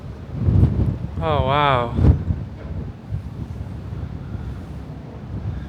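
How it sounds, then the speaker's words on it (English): Strong gusting wind buffets the microphone atop the San Giorgio Maggiore bell tower in Venice, a steady low roar under a few spoken exclamations from people standing up there. "Oh my God, it's so windy."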